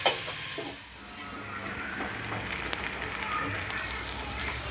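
Ivy gourd (kundri) fries in a covered pan with a soft, steady sizzle and crackle, a few clattering bumps near the start and faint hiss running under the quiet kitchen.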